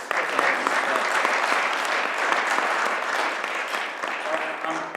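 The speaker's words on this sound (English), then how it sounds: "So a little round of applause" Steady applause from a conference audience at a group dentistry industry panel, dense clapping filling the room evenly for the whole stretch, with no pauses.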